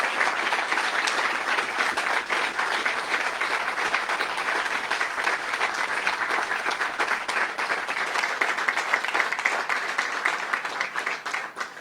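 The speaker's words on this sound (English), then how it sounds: "A big round of applause to our Congressman" Sustained applause from a crowd at an outdoor press event celebrating funding for an East San Fernando Valley light rail line, honoring Congressman Tony Cardenas; dense, steady clapping fills the whole stretch without letup.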